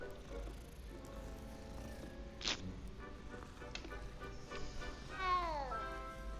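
A cat in the Hogwarts Legacy video game meows a few times over soft game background sound, with one drawn-out, sliding meow near the end.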